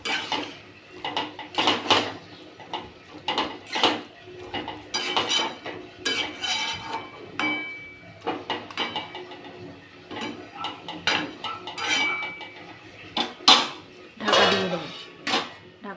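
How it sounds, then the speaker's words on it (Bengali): Chicken curry with potatoes being stirred in a metal pan, a steady run of scraping and clinking spoon-on-pot strokes close by, with louder clanks toward the end and no talking. "নেড়ে নেব।"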